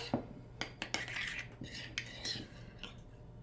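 Quesadilla filling mixed in a bowl with a spoon, quiet close clinks and scrapes of utensil against dish in short irregular bursts over a faint background.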